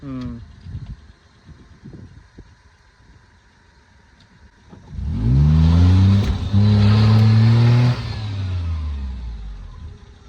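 A Maruti 800 engine straining as the small car climbs over rocks offroad: quiet idling and rustling with scattered voices, then a loud sustained rev for several seconds that dips briefly and settles to a lower drone.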